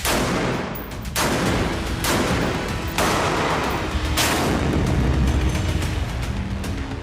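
Repeated heavy booms of artillery bombardment in northern Israel, loud and close, with several broadband blasts about a second apart over a constant roar.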